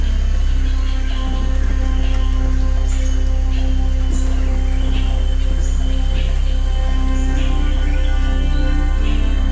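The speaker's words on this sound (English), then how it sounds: "A clap of thunder, the first drops of rain fall." Steady rain falling over dry mud in open country, a dense even patter of drops that runs without a break, with faint birdsong in the background.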